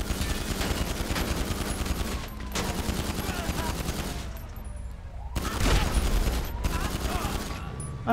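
Pistol gunfire in Grand Theft Auto Online: dense, rapid shots rattle out in long volleys, separated by brief pauses, loud and close throughout.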